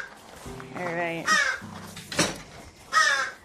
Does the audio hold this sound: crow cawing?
yes